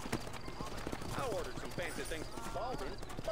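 Horse hooves clip-clop in a steady rhythm as a rider mounts up in the Western game Red Dead Redemption, with someone talking over the top throughout.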